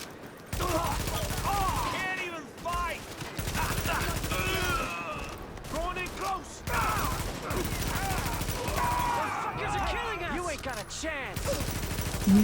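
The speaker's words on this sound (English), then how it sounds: "You guys are shooting at me" Rapid gunfire aimed at the player rattles in dense volleys in a video game, loud and near, broken by short pauses and mixed with other game effects.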